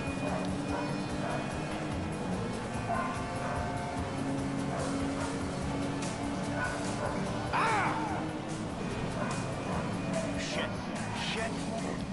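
A dog barks a few times in the video game GTA V, mid-distance and fairly faint, under talk and ongoing game engine and traffic noise.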